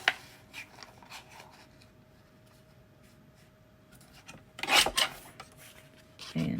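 Card stock is cut for a scripture pocket insert, soft rasping and rubbing strokes across the paper, then a louder scraping burst near the end, close and quiet with no talking.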